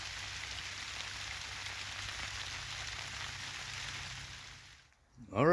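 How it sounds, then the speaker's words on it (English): Steady rain patters on a taut tarp, a broad hiss that holds evenly and then drops away near the end as a brief sound cuts in. "Raining pretty good now. Can you hear it hitting the tarp?"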